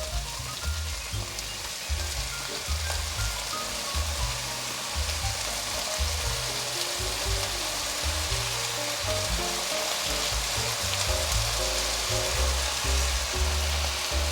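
Soy sauce poured down the side of a hot wok over potatoes, carrots and baby corn gives a steady, loud, crackling sizzle that holds without pause throughout.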